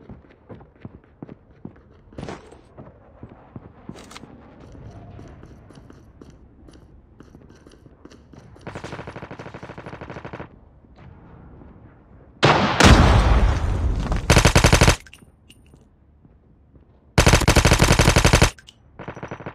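Call of Duty Mobile gunfight: scattered single shots and footsteps give way to long, loud bursts of automatic gunfire, with several sustained volleys in the second half.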